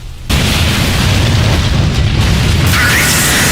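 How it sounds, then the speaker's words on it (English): A big explosion rips through the mech video game Armored Core 5, a sudden loud boom that swells into a sustained roaring blast and rumble for several seconds. "The chief dies again in a sweet explosion as you fly away towards the last leg of the game"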